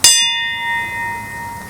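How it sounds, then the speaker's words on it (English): A single bell is struck once at a memorial reading of names for the Attica Prison riot, ringing out loud and clear and then decaying with a long, sustained tone. "Kent will ring our bell"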